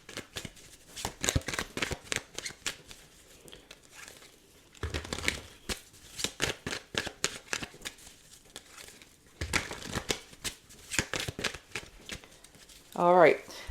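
Tarot cards are shuffled and riffled by hand in steady bursts of crisp flicking and slapping, close and fairly loud. A voice speaks briefly near the end.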